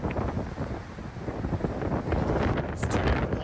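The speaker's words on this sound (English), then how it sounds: "It's too difficult to walk out here today. Really windy." Strong wind buffets the microphone in continuous loud gusts aboard a BC Ferries C-Class ferry, with a faint rushing roar underneath.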